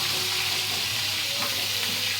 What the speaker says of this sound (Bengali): তারপরে মাছগুলোকে আমরা উল্টিয়ে দিলাম